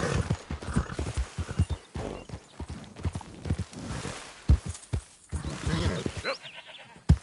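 Horse hooves clip-clopping in Red Dead Redemption 2: a quick, uneven run of close, sharp hoofbeats, with a short bleating animal call near the end.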